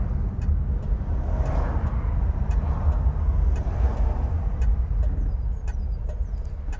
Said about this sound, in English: Oh, it's a lovely indicator noise.